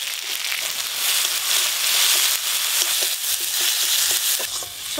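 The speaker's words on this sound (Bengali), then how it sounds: "সর্ষেটা আমি খুব বেশি ভাজবো না, ভাজলে তিতো হয়ে যাবে" Mustard paste with ground dried chilli, turmeric and panch phoron frying in mustard oil, a continuous loud sizzle with occasional stirring scrapes and light crackles.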